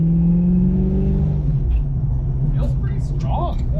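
Engine of a 1988 Ford Mustang GT rumbling and revving while driving, a steady loud low drone that rises and then settles, with people talking over it in the car.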